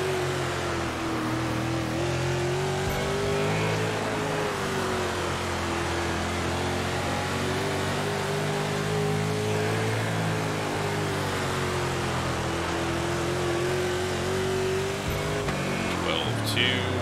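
Sprint car engine running a lap in World of Outlaws Dirt Racing, a steady loud drone that rises and falls slightly with the throttle, and a voice talking over it.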